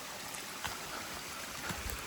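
A trail stream running steadily along the Art Loeb Trail, with a continuous broadband wash of flowing water and a few faint splashes or footsteps, fairly near and with no talk over it.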